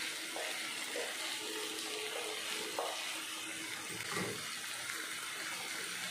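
Black chana kulambu is stirred in a pan after salt is added, giving a faint, steady sizzle and bubble with a few soft scraping strokes. No voices are heard.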